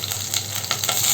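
Mustard seeds and fenugreek spluttering in hot oil for a Kerala sadya puliyinchi, a dense continuous sizzle with scattered sharp pops, close and steady, no voices.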